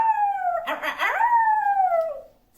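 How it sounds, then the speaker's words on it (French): A wolf pack howls together on a mountaintop at night, several long sliding tones overlapping and rising and falling, close and loud, with a brief rougher burst of mixed voices in the middle before one howl tapers off alone. "C'est le chant des loups."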